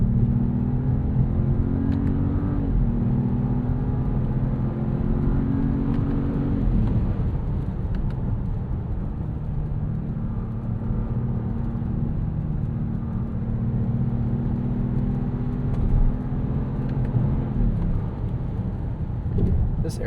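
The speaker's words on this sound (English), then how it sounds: "Let's rev this out one more time." A 2026 Jeep Grand Cherokee with the Hurricane turbo engine revving on open road, a steady loud rumble with rising pitch sweeps around the third and seventeenth seconds, heard from inside the cabin.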